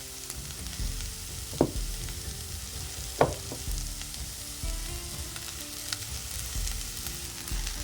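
Grated coconut tipped into runner beans frying in a pan for a Kerala-style stir fry, a steady close sizzle broken by two sharp knocks of stirring or scraping.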